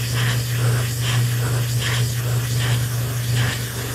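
An airbrush sprays paint onto a graffiti-style helmet in short U-shaped strokes, a steady close hiss that swells and fades in rhythmic pulses, heard alone with no talk.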